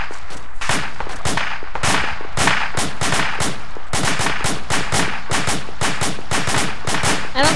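Rapid bursts of gunfire from ArmA 2 Operation Arrowhead hammer continuously, loud and dense, with overlapping rifle and machine-gun shots.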